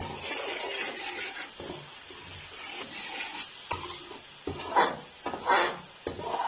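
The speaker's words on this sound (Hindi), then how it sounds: "तकरीबन 30 सेकंड के लिए हम जो है मसालों को भून लेंगे।" Spices with dried fenugreek leaves and garlic roasting in a pan, a soft sizzle under repeated spatula scrapes and stirring strokes, fairly quiet and close, with no voices.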